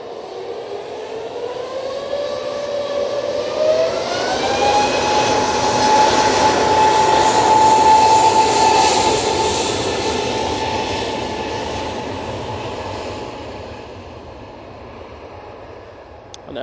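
Jet airliner at Manchester Airport passing close by, a loud roaring engine noise with a rising whine that swells to a peak mid-pass and then fades as the aircraft moves away.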